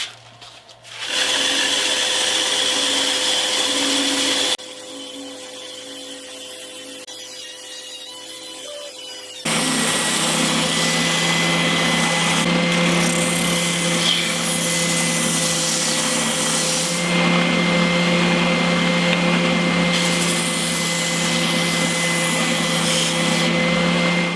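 A handheld router cuts around the edge of a homemade wooden electric guitar body, leaving a small lip; a loud, steady high-pitched motor whine and cutting roar runs through most of the clip, after a brief quieter idle stretch, with no talk.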